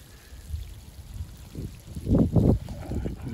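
Dirty, muddy black sludge water gushes out of the bottom of a heating radiator during flushing, heard as close, low gurgling and splashing surges that swell toward the middle of the clip.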